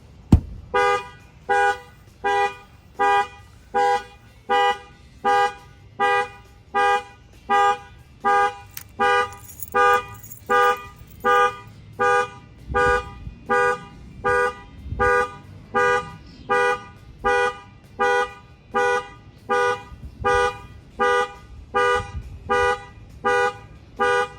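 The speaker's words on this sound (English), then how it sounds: "I'm going to go ahead and bang on the window and the alarm's going to set off" A Ford Mustang factory car alarm, set off by banging on the window, blares nearby in a steady pulsing pattern, evenly spaced loud electronic honks repeating for the whole stretch.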